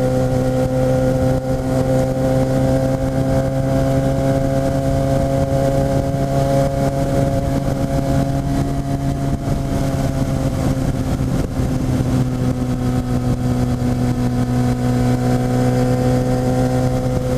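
A Yamaha FZ1 motorcycle engine while riding, a steady, loud, droning hum with strong low tones that holds an even pitch and shifts only slightly, with wind noise and no speech.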